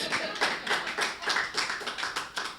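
Audience at a Hindi poetry recital breaking into applause, a dense burst of many hands clapping in a brisk, uneven rhythm, fairly close and filling the whole short clip.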